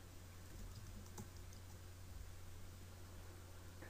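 Keys clack quietly on a computer keyboard while a name and description are entered, several soft taps over a steady low hiss, with no one talking.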